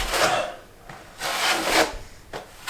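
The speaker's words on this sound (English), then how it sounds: "I just scrape it on like this" A flexible filling knife spreads filler across a wall in broad scraping strokes, with three or four rasping sweeps, each about half a second long and close up, separated by short pauses and no talk.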